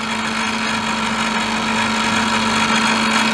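A machine tool's electric motor running steadily after being switched on, a constant loud hum with a strong low tone and no talking.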